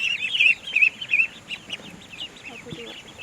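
Very young, recently hatched ducklings peeping in a high, bright chorus of quick chirps, loudest in the first second and a half, then fading to softer scattered cheeps with light background noise.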